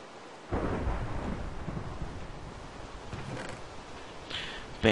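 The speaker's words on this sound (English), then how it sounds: "Still raining." Thunder rolls in a heavily modded Minecraft survival game, starting with a sudden low rumble after a brief silence and fading into steady rainfall, followed by a sharper crack near the end.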